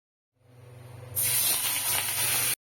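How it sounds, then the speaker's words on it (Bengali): Shrimp rubbed with salt and turmeric hitting hot oil: a faint low hum gives way to a sudden loud, bright hiss that holds steady for over a second before cutting off abruptly. "চিংড়ি মাছগুলো ভাজতে গেলে ভারী মজা লাগে পুরো লাল লাল হয়ে যায়"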